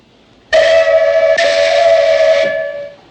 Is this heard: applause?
no